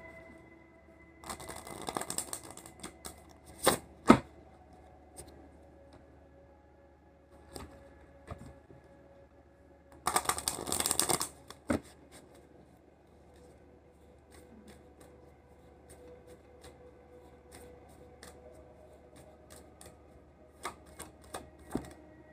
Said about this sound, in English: I'm going to pull something from the Romance Angels Oracle deck.